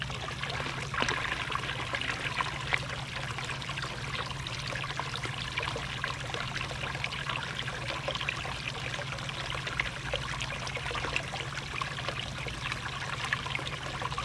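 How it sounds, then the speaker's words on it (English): Water drains steadily down through a pipe siphon, a constant low trickling rush that holds an even level throughout without pauses. "Right now, that water is going from the top of that pipe on the inside all the way down to those holes on the bottom."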